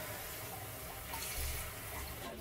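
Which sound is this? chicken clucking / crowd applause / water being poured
water being poured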